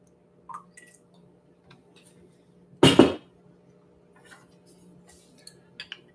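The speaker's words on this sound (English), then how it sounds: "let's add a small dash of water." A small dash of water poured into freshly brewed coffee made from Colombian beans: one brief splash near the middle of a quiet moment, with faint small ticks and clinks around it.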